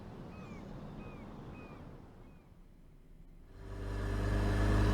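Car from the video game Life Is Strange driven recklessly, a steady mid engine drone with faint squeaks, swelling into a louder, closer roar near the end.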